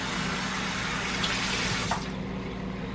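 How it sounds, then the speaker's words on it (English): Water pours steadily into a cooking pot holding potatoes and pork, a continuous splashing fill that cuts off near the end. "And now I'm about to put some water in it."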